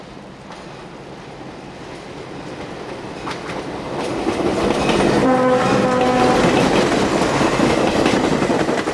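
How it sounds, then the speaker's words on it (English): A small 4-6-2 steam locomotive on the Reading and Northern rumbles closer and grows loud, its sharp exhaust and a horn sounding in sustained blasts as it thunders past with heavy clattering. "the sharp exhaust of the little blue 462 can be heard as she approaches and thunders by"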